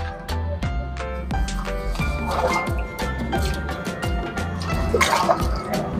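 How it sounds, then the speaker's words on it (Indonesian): Water pours and splashes onto soil and leaves while watering a newly planted waru tree cutting, an uneven trickling stream with drips and gurgles, close by, no voices. "Oke, kita siram."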